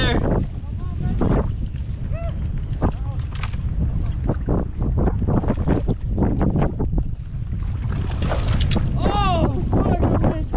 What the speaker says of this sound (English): Oh, fuck, the wind's crazy.